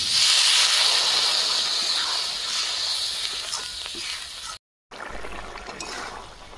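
Strong, steady hiss and sizzle of a little water hitting a hot pan of fried bitter gourd and potato, close and loud, fading slightly before a brief cut and a quieter continuing simmer.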